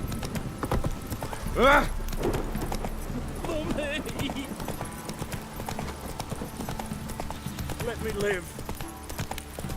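Hooves of Roach, the horse in the Witcher 3 video game, clip-clop in a steady, continuous rhythm, with a horse snort, a voice exclaiming, and spoken lines over the top.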